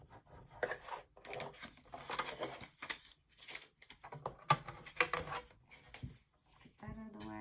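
Repeated raspy strokes of a scoring tool drawn along paper while making a paper gift card holder, scored half an inch in around three sides; close, dry scraping passes in short bursts.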